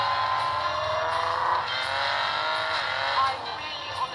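A four-door ordinary saloon car converted into a race car drives fast at around 100 mph, its engine a steady loud drone throughout with brief tire or gear shifts, no talking.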